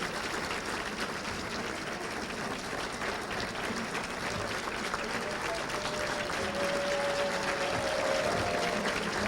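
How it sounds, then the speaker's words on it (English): A large audience at a college gala applauds students, with dense, sustained clapping filling a hall for several seconds at an even level. "let's give these young men and women a round of applause"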